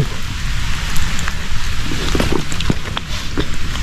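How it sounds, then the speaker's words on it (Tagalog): Steady heavy rain pours down, a dense hiss with scattered drops pattering close by on a nearby surface. "Malakas na naman yung ulan."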